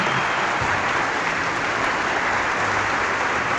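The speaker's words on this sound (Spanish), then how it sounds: "Aplauso, aplauso." Sustained applause from a church congregation at a Catholic Bible-study gathering, a steady dense wash of clapping that holds at an even loudness throughout.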